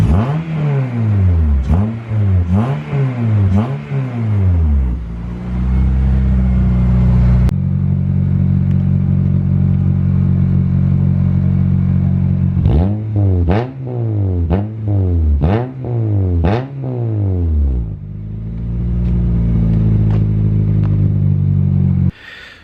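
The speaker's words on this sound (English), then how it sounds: "Give it a few cheeky revs." A K-swapped Honda Civic EJ9 engine is revved hard in repeated bursts, each climbing sharply and dropping back, with steadier idle stretches between them. The sound is loud and close, and there is no talking.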